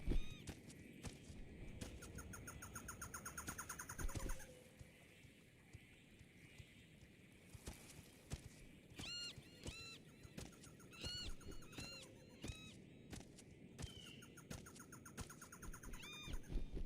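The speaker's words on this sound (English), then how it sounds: "A bird." Birds call repeatedly in the video game Morrowind, bursts of bright chirping calls rising and falling over a steady outdoor game ambience, with no talking.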